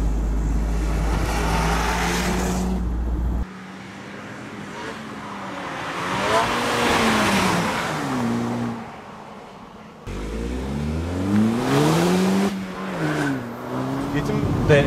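Seat Ibiza Cupra 2016 with 1.8 TSI engine, a stage 1 tune, rumbling and revving through its exhaust while driving, rising and falling with gear changes, loud and close, with a person talking over parts of it.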